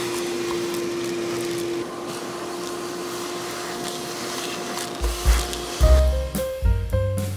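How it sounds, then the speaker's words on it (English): A vacuum cleaner drones steadily with a constant hum inside the driver's compartment of a vandalized Mercedes 420 SEL, then the tone shifts and bumps and thuds break in near the end as the nozzle moves around. "I'm gonna just take the vacuum to this now."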